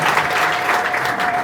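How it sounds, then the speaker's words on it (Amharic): A church congregation claps together in a sustained, dense burst of applause that holds steady for the whole moment. "ዋው እስቲ ለእግዚአብሔር ክብር አጨብጭቡለት"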